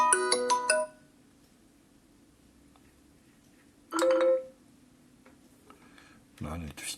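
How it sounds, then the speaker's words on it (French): A Xiaomi Redmi Note 8 Pro phone plays bright, chiming ringtone and notification tones in short bursts separated by near silence, clear and close, with a steady low hum beneath. "le son est très bon sur ce téléphone, sonnerie du tel."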